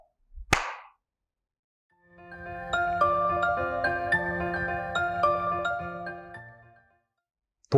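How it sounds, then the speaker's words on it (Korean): A single sharp hand clap or clapperboard snap used to sync cameras at the start of a recording, one crisp close crack in silence, followed by a sustained electronic tone. "동기화를 하기 위해 촬영 시작부에 박수를 치거나 클래퍼 보드를 사용하기도 하죠"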